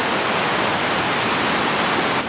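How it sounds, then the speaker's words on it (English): A waterfall at Chapel Rock in Pictured Rocks, Michigan pours onto a beach, a loud, steady, broadband rush of falling water heard up close with no pauses. "Like a waterfall coming onto a beach"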